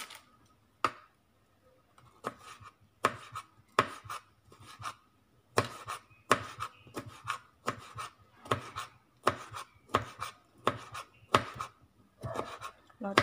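A knife chops jackfruit on a board to make a topping for Thai lod chong dessert, crisp, evenly spaced knocks repeating close by in a steady rhythm after a brief pause at the start.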